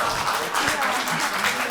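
An audience at a talk-show style event gives a short burst of scattered applause, moderately loud clapping and cheering from a crowd lasting under two seconds.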